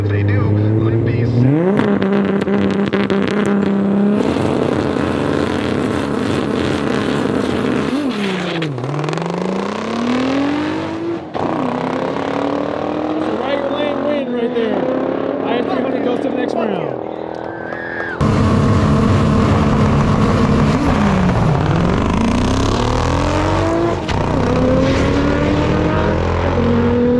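Cars drag race at a tailgate and SUV event, one of them a Lexus, with engines revving hard and climbing through gears, loud and continuous, with repeated shifts and a crowd and announcer talking throughout.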